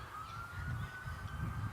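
An emergency vehicle at DFW airport runs its siren, a faint, steady wailing tone heard from a distance over a low rumble of background noise.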